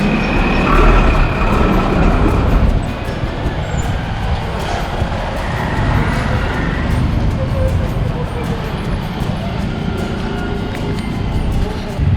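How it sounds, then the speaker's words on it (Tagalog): Road traffic passing on a street in Nepal: a dense, continuous rumble of engines and tyres, loud and close throughout. "Traffic."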